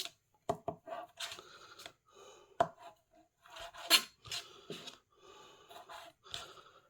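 A knife trims the fatty bits off bacon in a quiet kitchen, giving a series of short scraping cuts in uneven bursts with brief pauses between them.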